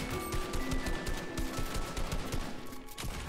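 Rapid automatic gunfire from an IO guard in a video game, a steady rattling burst of shots that runs the whole stretch with game music and effects mixed underneath.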